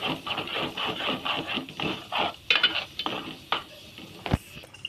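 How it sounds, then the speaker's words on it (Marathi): Masala paste for spicy misal being stirred and sautéed in oil in a pot, with repeated scraping strokes of a spoon against the vessel and clinks of metal, close and moderately loud, a faint sizzle underneath. "वाटण तेलामध्ये परतून घ्यायचं."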